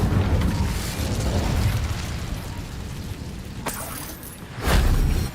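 An Incendio fire spell cast in Hogwarts Legacy, a fantasy video game: a game-sound rumble with a sharp burst partway through, then a heavier, louder whoosh-boom near the end.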